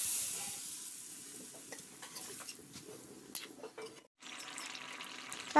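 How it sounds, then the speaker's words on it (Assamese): Sizzling chicken leg curry in a pan as water is poured in, a steady frying hiss with scattered crackles and stirring clatter, a brief drop near the end before the sizzle flares up again loudly. "এতিয়া মই পৰিমাণ অনুযায়ী জোল দি দিম।"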